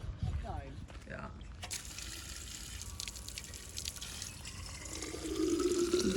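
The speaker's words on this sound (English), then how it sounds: "We found a water fountain over here, so we're gonna top off our water." Water from a trailside drinking fountain runs steadily into a bottle being topped off by hikers on a long walking route, a soft continuous trickle and fill heard alongside outdoor background noise and some voices.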